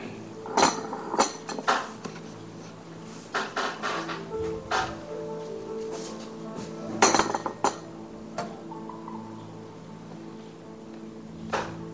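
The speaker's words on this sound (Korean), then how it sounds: "이 물과 커피가 잘 섞일 수 있도록 한번 흔들어서 이렇게 섞어 주시고" Coffee and water sloshed together in a vessel give off a run of sharp clinks and hollow knocks in short bursts, with steady background tones underneath.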